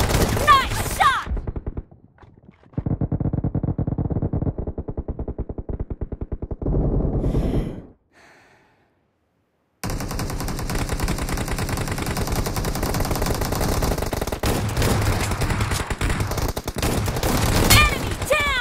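Rapid bursts of automatic gunfire from a PUBG Mobile team deathmatch, loud and dense, broken by a brief quiet gap before the sustained firing resumes, with game sound effects layered in.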